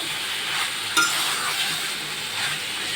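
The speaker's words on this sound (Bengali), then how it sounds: "দেখেন আমার তরকারি প্রায় কষানো হয়ে গেছে" Bean curry stirred and fried in a pot, a continuous loud sizzle with a brief scrape of the spoon near the one-second mark.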